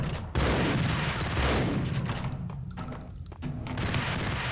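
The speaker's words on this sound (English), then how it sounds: "Oh, that's a grenade." A grenade bursts in the Max Payne video game, a loud, close, rumbling blast followed by a dense clatter of gunfire and thuds that fades and swells again.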